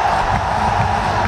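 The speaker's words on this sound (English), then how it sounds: "Brings the crowd to their feet." Cricket crowd at a T20 match between Bangladesh and Pakistan roars steadily after a six, a dense wall of cheering throughout with no break.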